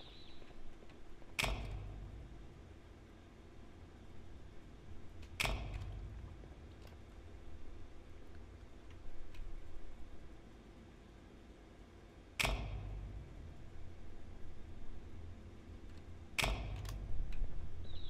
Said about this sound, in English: What's the clicking sound?